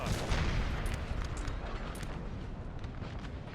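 Napoleonic-era artillery fire in a Total War battle game: a dense, continuous rumble of distant booms and crackling gunfire with no clear single shot. No voices are heard over it.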